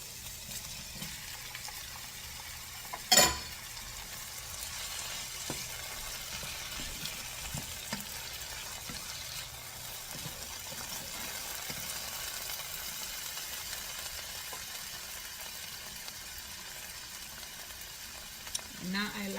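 Tomatoes fry in a pan with carrot for a shrimp stew, giving a continuous soft sizzle. A sharp clatter of a utensil comes early, with a few faint knocks later.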